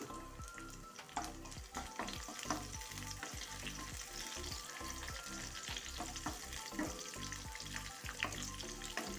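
Crushed garlic and curry leaves sizzle in hot oil for a bitter gourd pickle, a loud, busy crackle with repeated bursts of spitting pops, close up and without voices.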